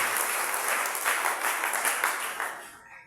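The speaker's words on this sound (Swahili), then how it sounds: "Tupige Yesu makofi" A church congregation applauds at a sermon's call to clap for Jesus: dense, steady clapping from many hands that fades away at the end.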